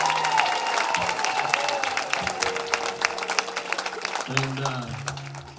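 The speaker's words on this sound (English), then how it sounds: "y'all should just clap one time for all of them" Audience applause at a concert on the Shelter Tour in New Albany, Indiana, a crowd clapping steadily beneath a speaking voice, with a faint tonal hum running under it.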